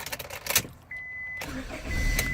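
A 2000 Honda Accord's engine runs close by, with a clicking start, a thin electronic tone, and then a steady low idle that rises slightly near the end.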